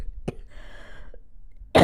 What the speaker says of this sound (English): I know where it's going and I'm half laughing, half coughing